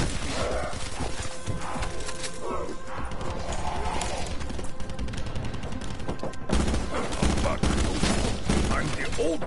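Gunfire in Call of Duty: Black Ops 4 Zombies, repeated rapid shots and bursts mixed with game effects and clattering, continuous and fairly loud, with a person talking over the action.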